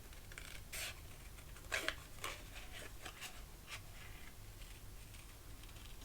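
Scissors snip by hand through paper while cutting out paper flowers. The cuts come as a string of short, quiet, crisp snips and rasps, close by, over a low background hum.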